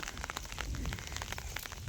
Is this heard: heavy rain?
yes